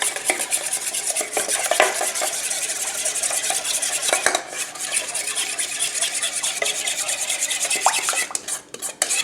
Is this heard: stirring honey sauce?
yes